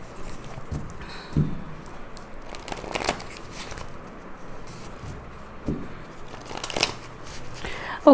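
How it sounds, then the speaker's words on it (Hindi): Tarot cards are shuffled by hand in soft, irregular riffling bursts, faint and close against a quiet background, with brief louder flutters scattered through. "शफल करते करते जो भी कार्ड्स आएंगे वो मैं लूँगी।"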